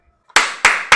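Three sharp, loud hand claps ring out alone at a steady, slightly uneven rhythm, each with a short bright decay, in a casual livestream setting.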